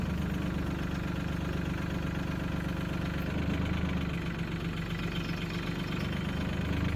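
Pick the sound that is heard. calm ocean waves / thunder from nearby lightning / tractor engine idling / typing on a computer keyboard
tractor engine idling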